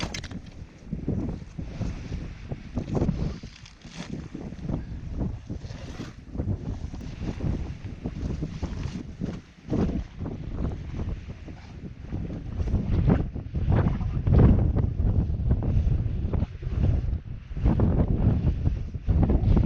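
Strong gusting wind on a Scottish mountain in driving mizzle, roaring and buffeting hard against the microphone in uneven surges that build louder toward the end, with no talking.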